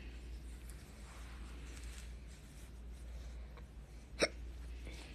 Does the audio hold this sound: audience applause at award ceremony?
no